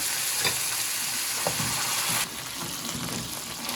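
Rice and vermicelli fry in oil in a pot, giving a steady, close sizzle with scraping stir strokes and a slight drop in intensity partway through.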